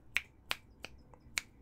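Four crisp finger snaps ring out at uneven intervals, sharp and fairly close against a quiet room, with no voices.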